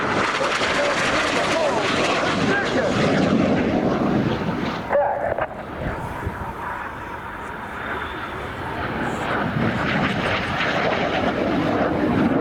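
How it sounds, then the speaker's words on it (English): Display jets roar overhead at an air show as they fly a barrel roll, a loud sustained engine rush that dips briefly mid-pass and then swells again, with a commentator talking over it and wind buffeting the microphone. "Each aircraft performs a barrel roll."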